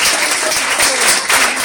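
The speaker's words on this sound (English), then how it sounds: "You just warmed my heart with that applause" An audience at a panel discussion on water claps in a dense, loud burst of applause that fills the room without a break.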